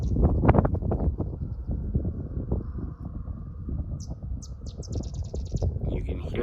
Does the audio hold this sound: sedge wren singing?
yes